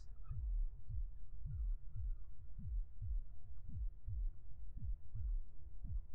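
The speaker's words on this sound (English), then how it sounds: "You should hear a heartbeat." Steady low heartbeat thumps in the video game I Doesn't Exist, about a dozen soft, evenly spaced double beats, muffled and alone.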